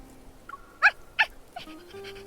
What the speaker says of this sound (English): It cheerfully barks and quickly licks Silas's cheek.